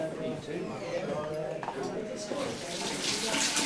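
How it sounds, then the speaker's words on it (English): Running water from a tap for washing with soap, a continuous splashing rush heard close up, with a person talking over it. "we'll give it a quick wash with some soap and water"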